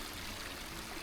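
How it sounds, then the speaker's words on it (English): Water spills over rocks in a natural pondless waterfall, a steady, even splashing rush heard up close and alone. "We have water coming off, bouncing to this rock, and then coming down and coming off that rock."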